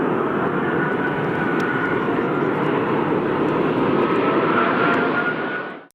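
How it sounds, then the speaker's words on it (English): Airbus A380 jet climbs away in a go-around after an aborted landing, a loud, sustained roaring rush of engine noise that holds steady before cutting off abruptly at the end. "It's definitely rare to get to see an Airbus A380 go around."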